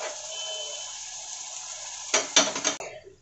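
Spoon scraping and stirring chole masala paste as it roasts in oil in a pan, a few quick clattering strokes near the end after a steady sizzling hiss.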